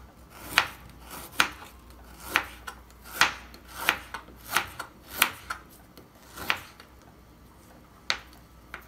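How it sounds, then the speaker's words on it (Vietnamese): Thin slices of ginger cut with a knife on a board, about a dozen sharp, evenly spaced chops in a steady rhythm, close and clear with no talk. "Gừng các bạn cũng thái mỏng nhé."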